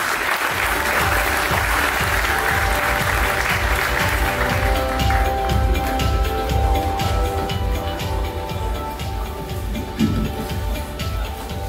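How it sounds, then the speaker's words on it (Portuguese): An audience at a panel talk applauds a professor, steady dense clapping that carries on for several seconds before thinning out, with music or voices underneath in the second half. "Salvas de palmas para o professor Rodrigo Saraiva."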